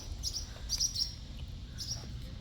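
Birds at a nest give a few thin, high chirps in short bursts, faint and some distance off, over low outdoor background noise.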